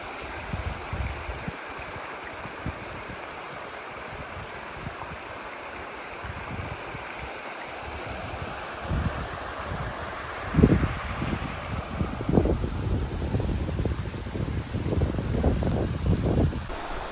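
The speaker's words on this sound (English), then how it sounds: "this happens to be gratuitous creek footage, Tranquille Creek" Tranquille Creek flows over its bed, a steady rushing wash of water outdoors with some wind buffeting, growing fuller and louder toward the end, with no talk.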